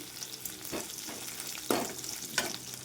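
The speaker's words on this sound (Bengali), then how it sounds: "পাঁচ ফোড়নটা এরকম একটু ফুটতে শুরু করলে" Panch phoron spices and crushed ginger sizzle in a little hot white oil, a steady soft frying hiss with a few louder spitting crackles, close and alone.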